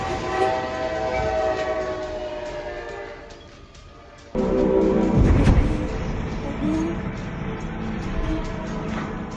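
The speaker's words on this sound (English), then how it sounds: "A truck driver narrowly escapes death as a train smashes into his vehicle." A train rushes through a railway crossing and smashes into a truck, a loud roar with a sudden heavy impact midway, and rumbling and rattling continuing afterward.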